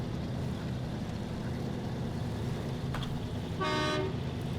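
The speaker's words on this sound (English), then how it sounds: "Got a good sounding horn on it too." A truck horn in the video game SnowRunner gives one short, loud honk near the end, sounding over a steady low engine rumble.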